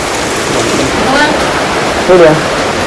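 Heavy rain falls in a village as a dense, even hiss of water, close and loud throughout, with a faint voice briefly audible underneath.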